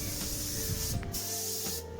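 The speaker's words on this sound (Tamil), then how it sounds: "செகண்ட் கோட் கிளியர் நம்ம வந்து ஸ்ப்ரே பண்ணிக்கலாம்." A spray gun lays down a second clear coat on a vehicle part during painting, a steady close hiss that continues almost unbroken with two brief pauses between passes.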